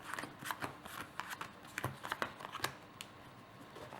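Yu-Gi-Oh trading cards being shuffled by hand, a quick run of crisp riffling snaps and soft papery flutters in uneven bursts, close and fairly quiet, with no talking.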